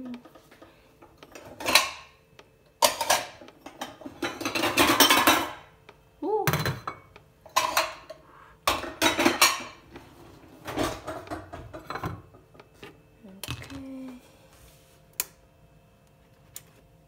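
Mini fita bread pieces are set onto a plate with a series of sharp, close clinks and clatters of dishes and utensils, irregular bursts with short pauses, no talking.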